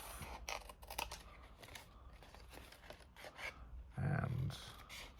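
Scissors snip through paper while an advent calendar is being made, giving a quiet run of several short, irregular cuts with a louder, longer crunching cut near the end.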